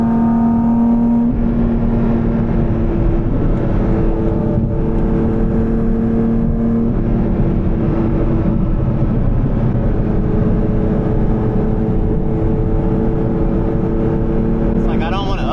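Porsche GT4 RS with a full titanium Valvetronic exhaust held at about 5,000 RPM gives a steady, droning exhaust note with a sustained tone and no upshift. It is loud and continuous from start to finish, recorded from inside the car.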